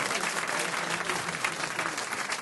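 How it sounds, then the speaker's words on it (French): Studio audience applause on a French radio comedy show, a brief burst of dense, steady clapping filling the whole stretch at moderate volume. "On vous applaudit."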